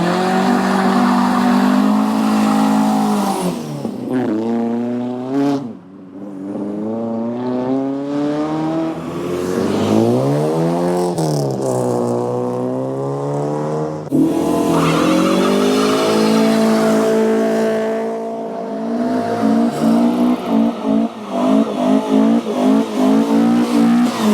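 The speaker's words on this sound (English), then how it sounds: "Looks like a couple of people are firing their engines up and getting ready to make a move." Classic Fords, including a Mark 1 RS, fire up and leave a car meet: loud, close engines rev repeatedly with rising and falling pitch, several cars pull away one after another, and tyres chirp briefly.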